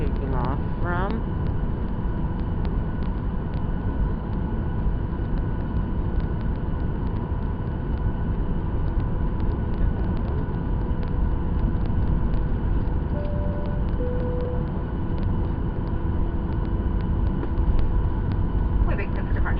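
Inside the cabin of a Southwest Boeing 737-800, a loud, steady engine roar with deep rumble fills nearly twenty seconds during the takeoff run. Faint rattles and tones sit within it, and talk is heard at times.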